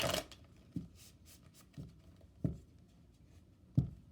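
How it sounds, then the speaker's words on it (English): Tarot cards shuffled by hand in a quiet room, giving a few soft papery riffles and a series of distinct taps as the deck is squared, spaced about every second, with no talk. "that's the last time I'm going to shuffle"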